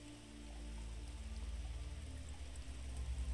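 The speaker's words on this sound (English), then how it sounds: "imagine that you're being told this sleep story to the relaxing backdrop of rain outside" Steady rain falls outside, a soft, even hiss with a low rumbling bed, gently swelling and continuing without pause.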